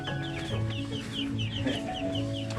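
Young fighting-cock chicks cluck and peep repeatedly at a small farm in Thailand, their chirps overlapping at close range against steady outdoor background noise, with no voices present.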